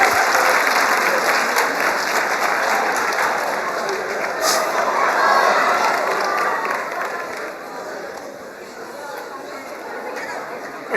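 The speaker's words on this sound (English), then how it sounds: "Give me a clap if you're excited to see Miss Pearl today" A crowd claps and cheers continuously at a live Family Feud game event, dense applause swelling and then easing slightly toward the end.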